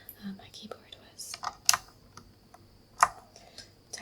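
Keycaps on a Razer keyboard being pressed back into place one by one, producing soft, close plastic clicks and snaps at an irregular pace against a quiet background, with a few louder snaps standing out.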